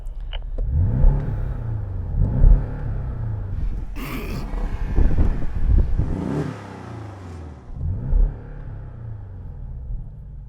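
Engine of a sports car roadster, one of a BMW Z4 M40i, Porsche Boxster GTS or Audi TT-S, rumbling and revving in several loud surges with brief lifts between them, heard close with no talking.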